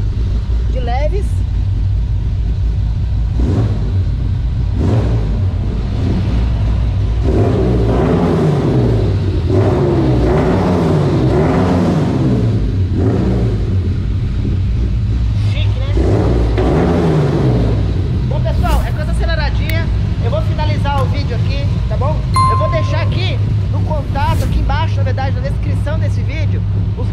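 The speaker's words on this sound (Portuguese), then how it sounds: "Vamos dar um acelerinho também? Vamos dar um acelerinho." A 1990 Chevrolet Diplomata engine fitted with Weber 40 carburetors idles loud and close, then revs up and down in several rising and falling surges while people talk over it.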